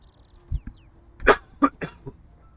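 Several coughs from one person in a video game session: a couple of short throaty bursts, then three louder, harsher coughs in quick succession, close and alone with no talking.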